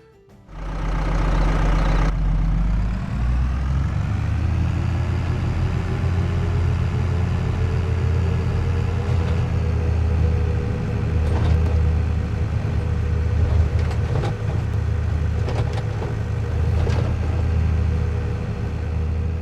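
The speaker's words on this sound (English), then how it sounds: "Now each vehicle seems to have a unique engine audio." A vehicle engine in Farming Simulator 22 runs steadily with a low rumbling drone, starting with a brief louder burst before settling into a constant, fairly loud idle-like hum with occasional faint clicks.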